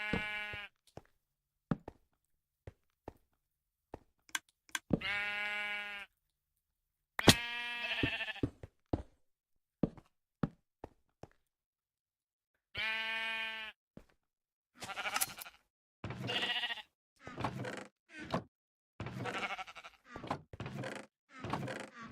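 Sheep in Minecraft bleat repeatedly in short separate calls, interspersed with soft thuds and clicks of block placing, with quiet gaps between and no talking.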